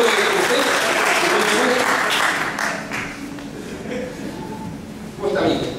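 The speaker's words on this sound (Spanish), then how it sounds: "Le damos un fuerte aplauso al caballero que va a acompañar a su hijo" Audience applause at a talk on entrepreneurship, dense clapping from a seated crowd that fades slightly midway then swells again, with a few taps and chuckles mixed in.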